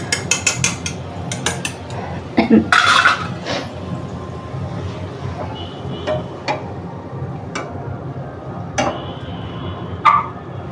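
A spoon mixes eggs, onion and tomato for anda bhurji in a pan, with a quick burst of metallic clinks at first, then scattered taps and scrapes over a faint, steady frying hiss.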